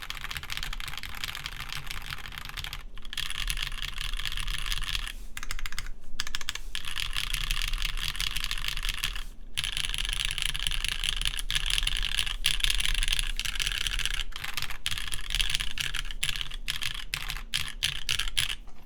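Fast typing on a custom-built mechanical keyboard, a dense, close run of crisp clacky keystrokes with brief pauses and some heavier key strikes, with no talking over it.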